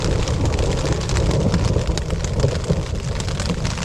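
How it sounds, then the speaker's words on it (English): Heavy rain drums steadily on a camping tent during an overnight stay in a mountain state park, a dense, continuous hiss and patter close by with no pauses and no talk. "it started raining about 5 and it's raining pretty hard"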